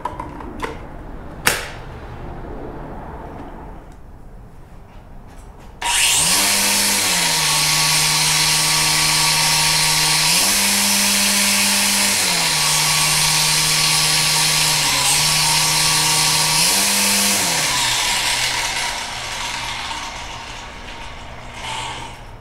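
A DeWalt 20V cordless weed trimmer spins up after a few faint clicks and runs with a loud, steady electric motor whine. Its pitch steps up and down a few times, then the motor winds down at the end.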